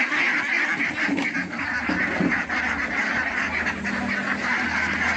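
A large flock of more than two hundred ducks on a farm and nursery in Ponnani keeps up dense, loud, continuous quacking and honking, with many birds calling at once close by.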